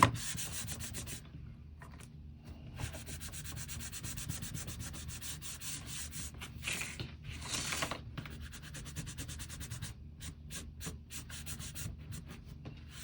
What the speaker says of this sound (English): I'm going to use a baby wipe and some of that antique wax. I'm just going to wipe it on, rub it on.